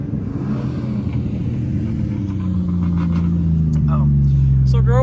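A 2JZ-swapped turbocharged Nissan 370Z engine rumbles low and then rises in pitch as it accelerates, with excited voices breaking in over the noise near the end.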